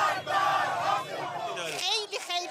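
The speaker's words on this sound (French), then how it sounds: "La foule célèbre ses frappes au cri de mort à Israël." A crowd in central Tehran chants loudly in celebration of missile strikes on Israel, with many voices shouting together in a rough rhythmic cry. The chant swells and dips near the end.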